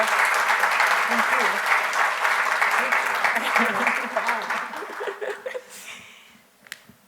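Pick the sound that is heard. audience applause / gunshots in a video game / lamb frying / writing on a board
audience applause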